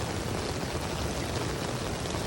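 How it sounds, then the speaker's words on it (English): Steady rain falling continuously on a campsite tent, a dense even hiss of drops close by with no pauses and no voices. "Still raining."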